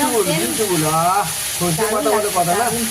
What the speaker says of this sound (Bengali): তো আমার শাকটা ভাজা হয়ে গেছে। এই যে ঝুরঝুরে করে ভেজে নিয়েছি।